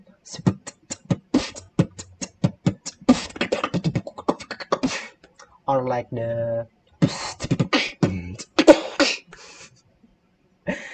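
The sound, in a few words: beatbox imitating drum kit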